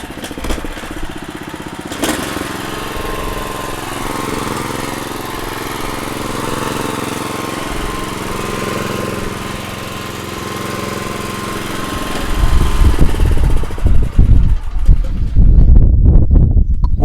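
An Ecotech HRT 110 mower's Honda GXV 390 petrol engine drones loudly and steadily, tilted at an angle, growing rougher and more uneven toward the end as it chops through tall grass.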